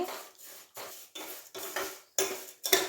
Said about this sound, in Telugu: ఇప్పుడు సేమియా వేసుకొని కలుపుకుంటూ మంచి కలర్ వచ్చే వరకు వేయించుకోవాలి